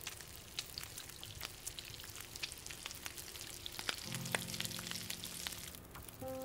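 Food cooking over a fire in The Long Dark, a soft steady sizzle with light crackling pops, fairly quiet, with a low musical tone entering partway through.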